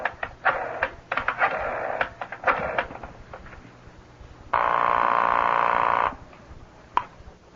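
A telephone in a radio drama: a few quick dial clicks and clatters, then a steady ringing buzz that holds for over a second, clean and close, with no talk.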